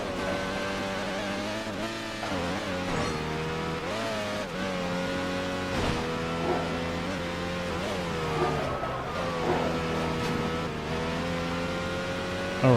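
A sport bike in the racing game Midnight Club 3: DUB Edition Remix, riding through San Diego with its engine screaming at full throttle, a continuous high whine that rises and dips through gear shifts, loud and unbroken.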